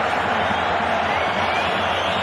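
Dense roar of a large football stadium crowd cheering and applauding for Real Madrid, a steady wash of many voices at full volume with no gaps.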